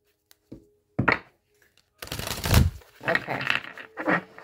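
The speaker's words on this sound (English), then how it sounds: "I'm going to give this deck really good shuffling" A tarot card deck being shuffled by hand, with a few short riffling bursts followed by a longer run of fast, close shuffling and riffles, loud and alone with no talk.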